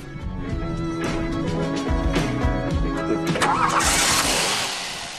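A 1.5-liter four-cylinder engine in a Volkswagen Scirocco GT runs steadily close by with a low, rumbling tone, revving slightly with some rattling toward the end.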